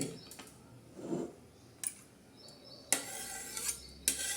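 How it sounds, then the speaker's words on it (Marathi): Sweet rice with jaggery stirred in a pot, a few scattered scrapes and metallic clinks of a utensil against the pot, close and irregular over a quiet background. "आता हा गोड भात आपण चांगला हलवून घेणार आहोत"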